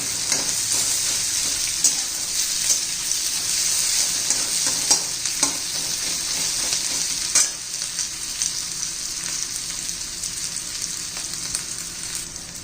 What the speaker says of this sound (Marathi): छान असं मसाला परतून घ्यायचा आपल्याला कांदा मऊ पडेपर्यंत